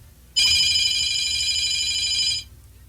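A phone rings with a bright electronic trill that holds steady for about two seconds and then stops, loud and close, over a low room murmur in a radio studio.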